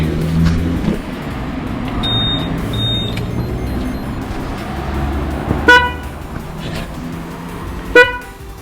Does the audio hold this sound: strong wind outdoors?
no